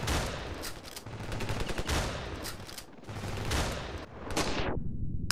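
Sustained gunfire from the video game Ravenfield, loud overlapping volleys and rapid bursts rolling on in waves, ending in a sharp final burst that cuts to near silence.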